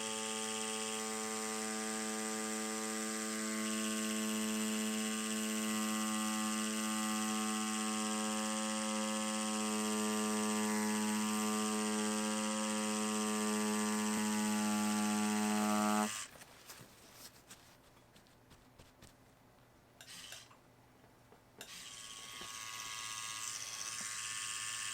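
A tattoo machine fitted with bug pin needles buzzes loudly and steadily while drawing lines, then cuts off about two-thirds through, leaving quieter handling noises and brief rustles.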